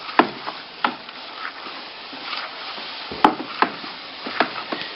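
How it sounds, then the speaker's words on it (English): A spoon stirs malt extract into water in a homebrew boiler, giving intermittent scraping and knocking strokes against the metal vessel, close and moderately loud, with no talk. "Now I've stirred in the malt extract into here"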